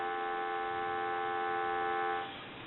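Steady dial tone from a Princess touchtone phone hooked to a line analyzer, a continuous close-up hum that cuts off near the end.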